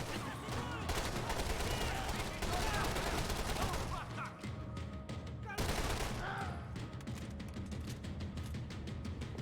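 Sustained assault rifle fire in the action game Max Payne 3, dense continuous bursts with a short pause before the shooting resumes, loud and close.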